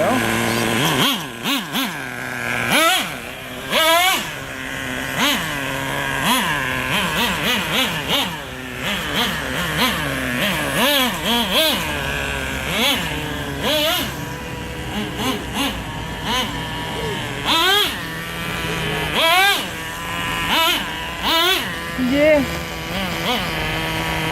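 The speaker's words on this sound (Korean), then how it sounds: "얘를 뒤로 딱 넣어서 돌리시면은 바로 시동이 바로 걸립니다 이렇게 시동 바로 걸리는 거예요" A nitro RC truck, a Nitro Rustler, starts and runs loudly up close, its small engine buzzing and revving in repeated rising and falling bursts throughout, with a voice talking over it.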